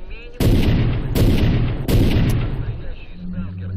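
Three loud, booming sniper rifle shots ring out in the game S.T.A.L.K.E.R. Clear Sky, evenly spaced about three-quarters of a second apart, each trailing into reverberation, with a brief voice near the end.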